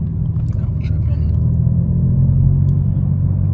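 A 900 bhp BMW M4 driving at night with a deep, steady low engine rumble heard from inside the cabin, constant and loud, while someone talks over it.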